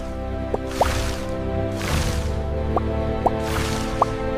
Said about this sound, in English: Squeezing out the excess water.